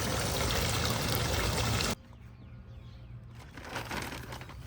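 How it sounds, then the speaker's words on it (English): Water pours steadily from a garden water feature for about two seconds, then drops to a soft, gentle trickle in a quiet outdoor setting. "The sound of water is just so soothing"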